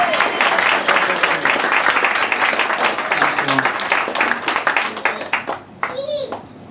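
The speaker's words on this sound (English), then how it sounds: "Please a big round of applause for little Leon." Wedding guests at a reception break into a big round of applause, loud sustained clapping with children's voices and chatter mixed in, tapering off near the end.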